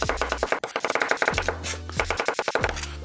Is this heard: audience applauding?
no